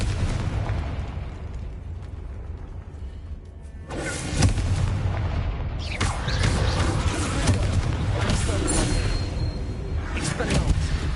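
In a Harry Potter video game, a Confringo blasting spell explodes as a loud boom about four seconds in and is followed by a long, rumbling crackle of blasts and debris, with spoken voices around it.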